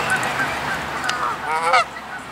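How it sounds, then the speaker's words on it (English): A Canada goose honks repeatedly, loud and close, a series of harsh nasal calls with a sharper burst near the end. "Canadian goose."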